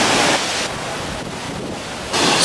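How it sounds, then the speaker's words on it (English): A very large waterfall roaring as a dense, steady broadband rush that fills the whole stretch, loud and constant with slight swells and no voices. "how big this freaking waterfall is"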